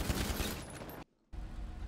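A rapid burst of gunfire in FiveM, a GTA V roleplay game, rattles densely for about a second, cuts to near silence, then resumes as noisy rumbling, distant and fairly quiet.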